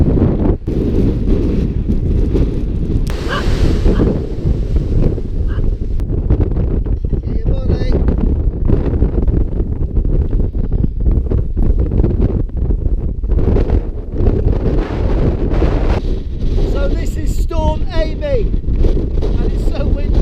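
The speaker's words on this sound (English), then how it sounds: "And it's so windy." Strong wind buffets the microphone on the exposed coast at Portland Bill near Pulpit Rock, a loud, continuous roar with gusty low rumbling throughout and no clear speech.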